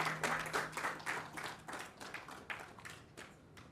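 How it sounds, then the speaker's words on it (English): Audience clapping at a public safety workshop, a modest round of applause that starts fairly loud and gradually thins out. "Please, maybe please have a round of applause for Professor Geetam Tiwari."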